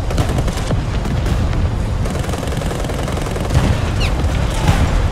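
Aircraft cannons and machine guns fire in sustained, dense bursts throughout a War Thunder air battle, loud and continuous with heavy booming impacts and a brief whistling streak near the end.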